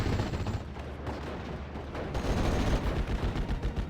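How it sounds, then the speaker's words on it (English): Machine guns in a strategy video game rattle in sustained bursts, with rapid overlapping shots over a dense, low battle rumble. The fire is moderately loud and continuous with no talk. "A lot of MGs laying into this cannon fodder."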